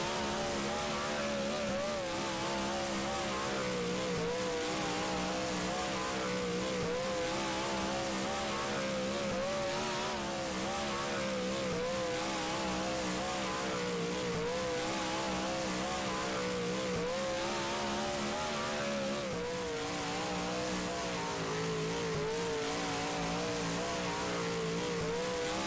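A pack of super stock race car engines droning steadily in the rFactor racing game at Hartford, a continuous dense roar with shifting engine pitch throughout, loud and unbroken.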